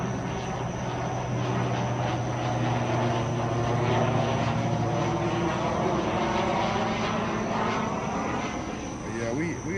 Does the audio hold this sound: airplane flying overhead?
yes